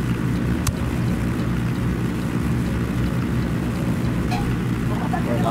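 Helicopter in the video game Ghost Recon Wildlands: a loud, steady rotor and engine drone with a low rhythmic throb that holds unbroken throughout.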